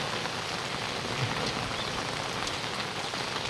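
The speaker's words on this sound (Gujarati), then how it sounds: "સુંદર વરસાદની સાથે રમઝટ" Steady rain patters down on surfaces in a village, a dense, even hiss of drops heard close and unbroken with no voices.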